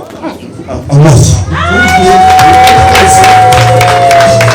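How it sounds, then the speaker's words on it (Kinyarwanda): Wedding guests at a Rwandan marriage ceremony break into loud applause and cheering, a dense close crowd of clapping with whoops and shouts that runs on steadily. "amashyi"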